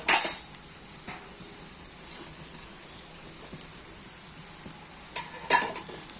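Coconut and jaggery are stirred in a pan, with soft scraping and faint sizzling throughout, punctuated by a sharp metallic clink at the start and another near the end; quiet, close and without speech.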